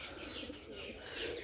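Pigeons, including Bombay pigeons, cooing on a rooftop in Rajshahi, a steady soft murmur of overlapping coos from several birds with faint chirps throughout.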